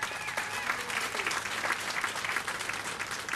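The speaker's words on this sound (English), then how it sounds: "yeah, round of applause for that," A crowd at an event breaks into steady, moderately loud applause, many hands clapping together continuously from start to end, with faint voices mixed in.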